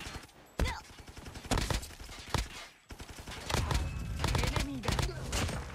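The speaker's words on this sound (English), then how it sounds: "that's a shotgun, I think" Shotgun blasts and gunfire in the COD Mobile battle royale, several sharp loud reports spaced unevenly over a running game soundscape, with a voice speaking underneath.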